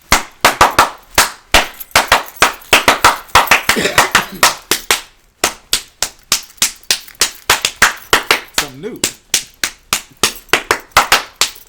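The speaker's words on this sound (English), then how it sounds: "When this hand, they come together and they make a sound. You know what that sound is called? Clap." Hands clapping in a sharp, close, steady rhythm, dozens of crisp individual claps repeating for most of the stretch with one short pause midway and a brief spoken phrase.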